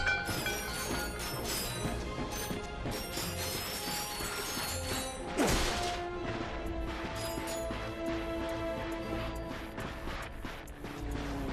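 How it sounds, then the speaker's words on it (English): Wooden crates shatter in the Ratchet & Clank video game on Planet Veldin, with sharp crunching breaks over a continuous bed of game music, including one louder smash midway. "Look at him smashing crates."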